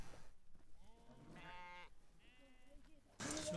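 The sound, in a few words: sheep bleating before slaughter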